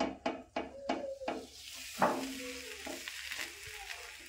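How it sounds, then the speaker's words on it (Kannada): Holige flatbread fries on an oiled griddle in a home kitchen, with a quiet, even sizzle under a series of sharp taps and knocks from a utensil and a louder scrape midway. "ಹಂಚಿಗೆ ಒಂದು ಸ್ವಲ್ಪ ಎಣ್ಣೆ ಹೊಡೆದು ಹೋಳಿಗೆ ಹಾಕೋತೀನಿ ರೀ"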